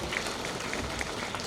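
An audience applauds at a technical institute's graduation ceremony, producing a brief, dense and even wash of clapping.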